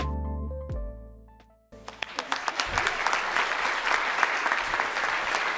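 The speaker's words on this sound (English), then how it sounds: "One more round of applause for our high five winners." At an awards celebration, a short musical sting with sustained tones plays first, then cuts off. Lively audience applause follows and grows into steady, dense clapping to the end.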